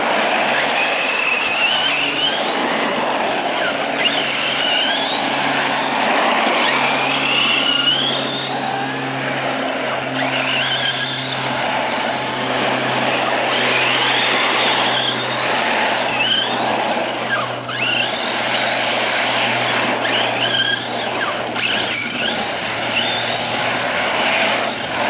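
An Arrma Big Rock 6S RC truck drives and drifts on asphalt, its electric motor whining in repeated rising and falling sweeps over a steady hum and tire noise, with no talking.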